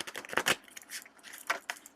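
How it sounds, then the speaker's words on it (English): Tarot cards shuffled by hand during a holiday reading, heard up close as several quick papery riffles and slaps, with two bright bursts near the start and two more toward the end. "That's a terrible shuffle."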